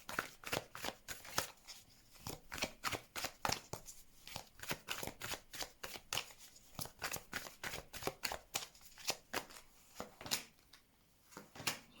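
Tarot cards being shuffled and laid out for a reading: a long run of quick, crisp riffling and slapping card sounds, close and fairly quiet, with no talk.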